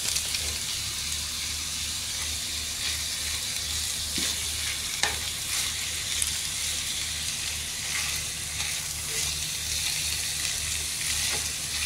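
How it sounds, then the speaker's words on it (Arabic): Iraqi okra stew simmering in a pot, a steady bright sizzle and frying hiss running throughout with a few faint clinks, no talking. "ونعطيه يتهدر شوية ويكون جاهز"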